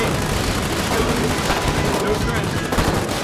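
Dense, continuous gunfire from the game Foxhole, shots sprayed into bushes, a loud unbroken rattle of rapid bursts that fills the whole moment with no clear gaps.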